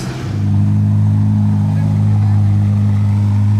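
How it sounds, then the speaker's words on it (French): A Ferrari 812 GTS on a cold start pulls out of a parking lot, its engine giving a loud, steady low rumble that swells in the first half-second and holds throughout, with voices faintly underneath. "Elle fait du bruit là en cold start, elle sort du parking."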